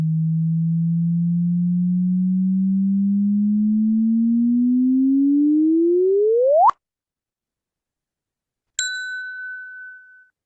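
A sonified LIGO gravitational-wave chirp from a neutron-star merger rises steadily in pitch and ends abruptly. After a short silence, the Fermi gamma-ray detection follows as a bright, clear electronic ding that fades away.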